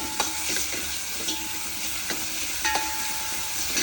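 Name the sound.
onions frying in pan for masoor dal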